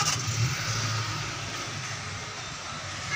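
A 2018 Honda 125 motorcycle engine runs steadily close by, a low throbbing idle with a slight rise in revs near the start, continuous and fairly loud, with no voices.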